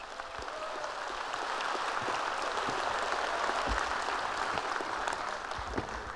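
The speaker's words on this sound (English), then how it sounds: "Give them a round of applause." Audience applause during a 2016 presidential debate, a steady, dense wash of clapping that holds for about six seconds with no talk over it.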